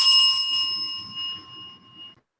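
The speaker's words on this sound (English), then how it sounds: "I will ring the bell and your time starts now" A single bright bell strike opening a timed presentation session, its clear ringing tone decaying slowly over about two seconds above a faint murmur of room noise.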